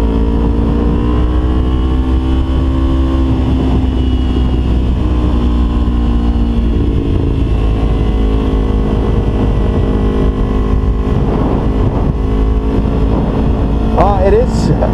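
A 2012 Kawasaki Ninja 250 motorcycle being ridden, its engine droning loud and steady with pitch rising and falling through gear changes, while a person talks over the ride.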